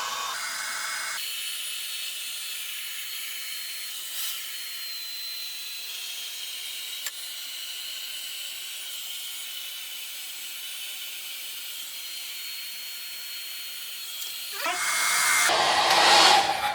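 A heat gun blows continuously over rim tape on a bicycle rim, a steady hiss and whoosh held for most of the time, ending with a louder, rougher burst near the close.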